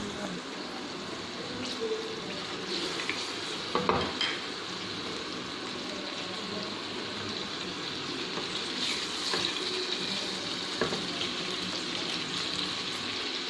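White cumin seeds sizzle in plenty of hot oil in a kadai, a steady, close frying hiss with occasional louder crackles and stirring.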